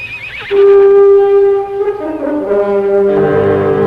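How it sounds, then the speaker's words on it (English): A horse whinnies loudly, one long wavering neigh that rises, holds, then breaks into a shaky, fluttering end. "That is the horse of Latosa."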